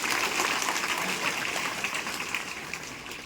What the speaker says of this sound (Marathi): त्याला जोरदार टाळ्या होऊन जाऊ